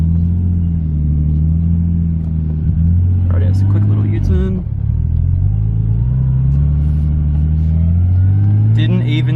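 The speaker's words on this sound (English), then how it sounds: "Rightio, so quick little U-turn." A Nissan R33 Skyline pulling a quick U-turn, its engine rumbling steadily and lifting in pitch as it turns and accelerates, close inside the car, with someone talking over it.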